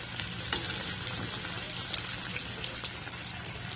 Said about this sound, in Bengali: দু পিট বেশ ভালোভাবে পটলটাকে লাল লাল করে আমি একটু ভেজে নেবো